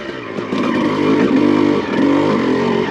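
A Honda CR250 two-stroke motocross bike revs loud and close on a steep hillclimb, the engine note climbing and falling in strong bursts with heavy clutch work.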